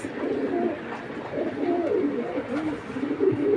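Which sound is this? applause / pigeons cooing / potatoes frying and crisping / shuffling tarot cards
pigeons cooing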